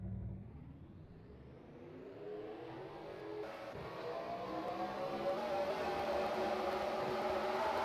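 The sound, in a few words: race cars rolling off in a racing video game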